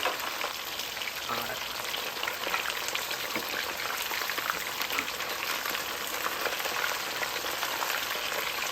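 Beef pieces sizzle in hot oil during the second fry for crispy orange beef, a dense, steady crackling hiss that runs throughout, close and loud with no talk.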